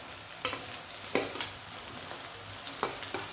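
Chopped beans, cauliflower and carrot fry in a pan for veg pulao, with a steady low sizzle broken by a few sharp scraping stirs of a spoon.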